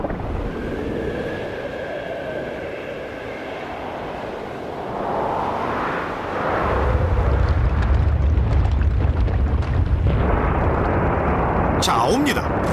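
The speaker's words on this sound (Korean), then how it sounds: "폭발음이 들리네." A deep explosion echoes through snowy mountains, starting faint and then swelling midway into a heavy, sustained low rumble that carries on to the end, with voices talking over it.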